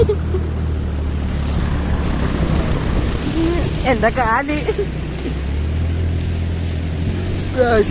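A vehicle pushes through floodwater covering a road in Kollam, Kerala, with a continuous rushing wash of splashing water and a low rumble, while several people talk and call out over it.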